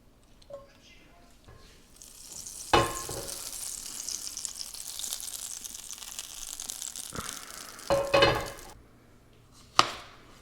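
Fish sautéing in butter in a cast iron pan, a broad steady sizzle running through the clip with louder bursts and a few sharp clinks as it is stirred, with a voice speaking at points.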